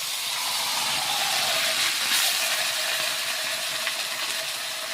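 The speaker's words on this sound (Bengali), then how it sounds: "আমি তারপর আবার তেল ঢেলে মাছটা দিয়েছি" Small fish sizzle in a shallow layer of oil, giving a steady, dense hiss that stays close and even throughout with no pauses.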